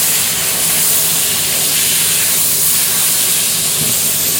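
Steak sizzling in butter in a hot pan makes a loud, steady, unbroken hiss that stays close and even throughout, with no voices.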